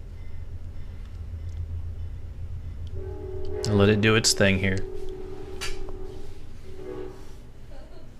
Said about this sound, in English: And there's a train.